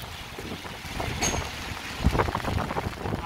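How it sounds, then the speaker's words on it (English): Strong wind gusting along a rainy downtown Chicago street, a rough rushing roar that swells and buffets the microphone, with brief clatters mixed in. "the wind is really, really picking up"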